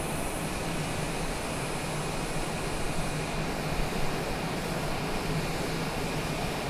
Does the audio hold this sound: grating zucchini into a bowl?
no